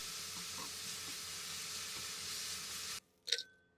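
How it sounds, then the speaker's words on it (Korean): Julienned cucumber and carrot stir-frying lightly in olive oil with a pinch of salt in a pan, a steady soft sizzle and hiss that cuts off abruptly, followed by a brief clink and quiet. "살짝만 볶아줍니다."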